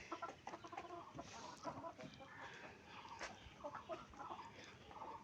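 Hens of the Tiger chicken breed cluck repeatedly after laying eggs, a busy run of short, fairly close calls with chattering from other fowl mixed in; no talking.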